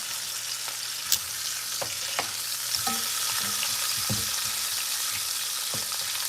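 Beef neck bones sear in a hot pan with a steady, close sizzle throughout, broken by occasional clatters and scrapes of a utensil against the pan, with no voices.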